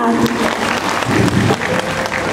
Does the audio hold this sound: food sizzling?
no